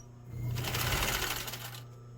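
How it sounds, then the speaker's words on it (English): A sewing machine runs a steady, fast stitch through jeans threaded with blue thread, a close continuous whir lasting about two seconds before it stops. "So let's move over to the sewing machine."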